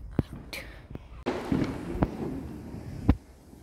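Several sharp firecracker bangs burst at irregular intervals, loud and close, over crackling background noise and faint voices.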